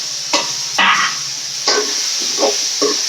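Drumsticks tossed with onion and tomato in a pan give a few separate bursts of scraping stir and soft sizzle, near and moderately loud, with short pauses between strokes over a steady faint hiss.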